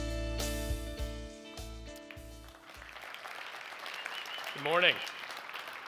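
Applause from a conference audience sounds as a dense clatter of hands during the first seconds and then fades out as a voice starts speaking over a quieter room.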